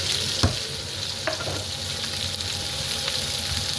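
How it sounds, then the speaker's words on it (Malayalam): Sliced onions frying with garlic and green chili in a pan, a dense constant sizzle with a few scraping clacks of a spoon being stirred through, loud and close with no talk. "ഒന്ന് ഇളക്കി ഒഴിപ്പിച്ചെടുക്കാം."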